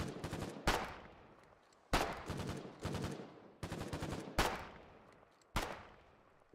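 Repeated bursts of gunfire in the war game Foxhole, loud sharp shot clusters fired in quick volleys roughly every second with decaying tails between them, no talking.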